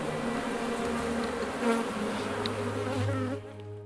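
A dense, steady insect buzz from many bees, continuous and fairly loud, with no voices, fading slightly at the very end.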